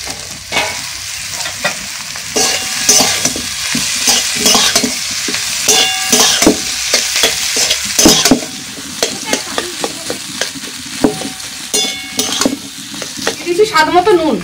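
Boiled potatoes being stirred into a hot pan with turmeric and chilli powder for a spicy bread pakoda filling, giving a steady close sizzle with repeated scraping and clattering of the spatula against the pan throughout.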